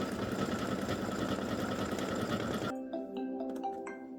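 A computerized embroidery sewing machine stitches bats onto a quilt block in a rapid, steady mechanical rattle that stops abruptly near the end, leaving faint clicks and a soft hum.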